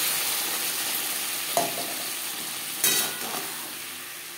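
Potatoes fry with spice paste in a pan for a Bengali rui fish curry, a steady close sizzle with two sharp scraping stirs of a spoon against the pan.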